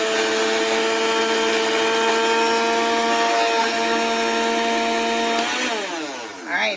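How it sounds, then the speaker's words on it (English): A kitchen blender grinds dried lemon pepper into powder, a loud, steady motor whine held close for several seconds before pitching down as it slows at the end. "And I'll blend it up a little bit because it's going to be noisy"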